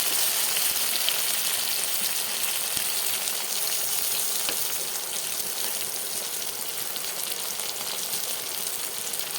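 Onions and tomatoes fry in oil in a pan for a spicy Bengali fish curry, giving a steady, dense sizzling hiss that stays even and fairly loud throughout with no voices.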